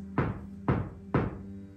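Three firm, separate knocks on a wall in a mansion, spaced about half a second apart, close and fairly loud, with no talk.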